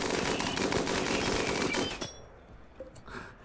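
Rapid machine gun fire in the video game RimWorld, a dense sustained stream of shots that stops abruptly, leaving faint scattered game sounds.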